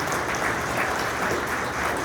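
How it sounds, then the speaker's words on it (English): A crowd applauds new members at an annual mayoral update in Corona, a dense, steady wash of clapping that stays loud and close for the whole stretch, with no voices over it. "Let's give a round of applause to all the brand new members that joined"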